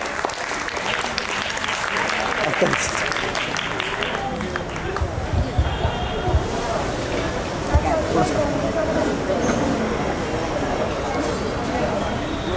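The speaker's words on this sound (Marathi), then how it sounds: "भरपूर टाळ्या पाहिजे, त्यांना मोटिवेट करायला पाहिजे" An audience at a housing society's annual day program applauds continuously, a dense, full wash of many hands clapping together with a murmur of crowd noise underneath, steady from start to finish.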